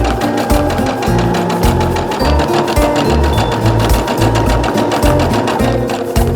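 A sewing machine running steadily at a regular straight-stitch length while sewing a patchwork pillow, a loud, continuous rapid mechanical whirring and clatter with no talking.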